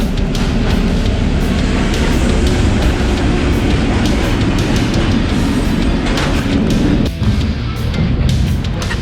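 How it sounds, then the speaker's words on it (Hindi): Train pulling into a station, a loud, continuous rumble of wheels and rail noise close by, with faint rhythmic clicks throughout and no voices. "ट्रेन आ रही है लगती है।"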